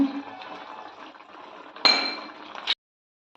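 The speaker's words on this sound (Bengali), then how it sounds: "এবার ডিমটাকে ছেড়ে দেবো ডিমটাকে ছেড়ে দিচ্ছি" Eggs go into a hot pan for an egg curry with potato, eggplant and curry leaves: a steady low sizzle, then a sudden bright hiss and clink as they land. The sound cuts to silence at the end.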